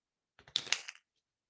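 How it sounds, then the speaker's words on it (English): A deck of playing cards is shuffled once, a quick soft riffling clatter lasting about half a second in an otherwise quiet room. "Let me shuffle it."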